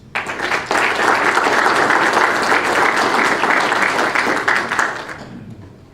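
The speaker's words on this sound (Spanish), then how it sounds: "Aplausos, por favor." Audience applause at a forum award ceremony in Peru, a dense, steady wash of many hands clapping that holds strongly for several seconds and then fades out near the end.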